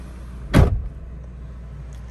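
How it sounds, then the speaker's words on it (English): A 2019 Renault Captur's car door shuts with one solid, close thump, followed by quiet. "So now let's go ahead and close the door."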